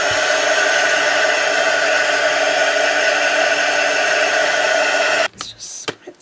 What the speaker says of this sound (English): I'm just going to put on my heat gun and dry off that colour first.